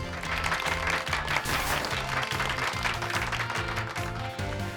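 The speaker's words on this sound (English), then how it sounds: "Give Pikachu a round of applause" Applause from the Pokémon Scarlet video game, a steady wash of clapping that continues without a break over a repeating game music loop.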